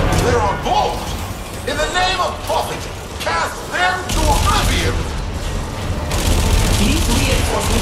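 Turret gunfire in the video game Warframe during a Railjack space battle, rapid bursts and booming shots layered with game effects, while a voice talks over the action.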